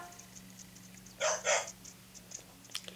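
A dog in the Nintendogs + Cats video game gives two quick barks in succession, clear but moderately loud, against a steady low hum and faint electronic tones.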